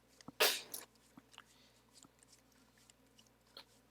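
One short, sharp sneeze bursts out close by near the start, then faint scattered handling noises follow over a quiet room.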